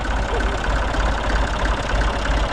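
A Massey Ferguson 35 tractor engine idles loudly and close, a dense, steady low rumble with a rough, knocking pulse.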